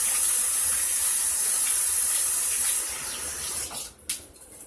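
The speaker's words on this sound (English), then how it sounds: "Give me a second, wash my hands." Hands wash under running tap water, a steady close hiss of flowing water that thins out and breaks up near the end with a few splashy shifts, with no talk.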